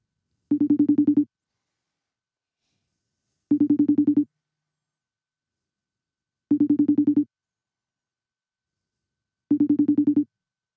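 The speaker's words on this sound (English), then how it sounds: "This could ring all night long." A FaceTime audio call ringing: four identical short ring bursts, each about a second long, evenly spaced roughly three seconds apart, clear and alone against silence.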